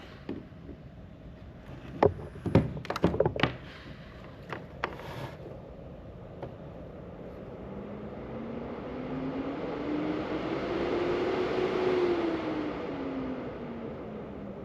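An ASIC cryptocurrency miner fitted with upgraded fans starts up: a few clicks and knocks at first, then a steady fan whoosh and rising whine that swells and ramps up over several seconds, fairly loud and continuous.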